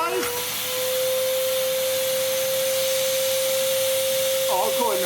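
A Hitachi CV790 cylinder vacuum cleaner runs with a steady, close whine and airy rush throughout, a faint voice briefly heard near the end.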